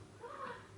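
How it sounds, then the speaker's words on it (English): Cats scuffle near a door, a short, faint burst of yowling and growling that swells in the middle and fades within a second, heard alone. "That's my cat's fighting around the door."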